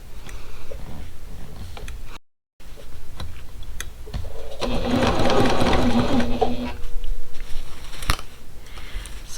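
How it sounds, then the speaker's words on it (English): A sewing machine stitches the seams of a pickle dish quilt block up to the nested seams, running steadily with a fast mechanical whir and ticking, pausing briefly, then speeding up louder before slowing. "So I'm going to sew up to my nested seams."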